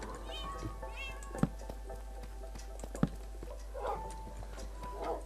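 Quiet Minecraft game sounds: a couple of faint cat meows drift in among soft clicks, hoof-like clip-clop taps and low background ambience, with no talking.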